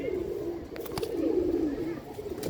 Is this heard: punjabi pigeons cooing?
yes